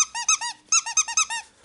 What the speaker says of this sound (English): That's a squeaker.